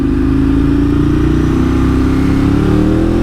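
A car fitted with loud aftermarket exhausts revs hard and close, its deep roar climbing steadily in pitch with no voices over it.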